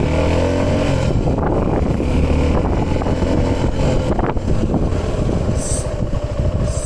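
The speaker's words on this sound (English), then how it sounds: "So I'll just rev it up a little bit." A Suzuki V-Strom 250 SX 2023 motorcycle idling close by with a steady low engine drone and a couple of light throttle blips, no one speaking over it.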